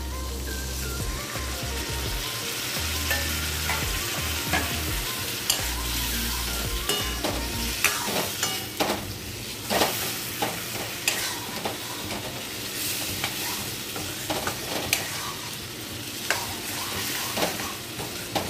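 Prawn and jackfruit seed curry cooking in a pan after a little water goes in, giving a loud hiss that settles into continuous sizzling with busy spoon scrapes and knocks throughout.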